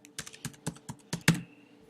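Computer keyboard typing: a run of about seven distinct key clacks at an irregular, fairly even pace, close and clear, the last stroke loudest, with no voice over it.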